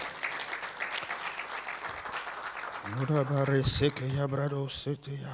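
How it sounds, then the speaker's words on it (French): A church congregation applauds steadily for the singers, a continuous clatter of many hands that continues while a preacher's amplified voice speaks over it. "Nous pouvons acclamer le Seigneur pour les chantres, s'il vous plaît."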